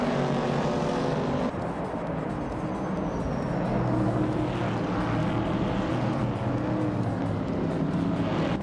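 Engines of race cars in a racing video game drone steadily and loud throughout, several cars overlapping with a higher whine and a pass early on, no talk.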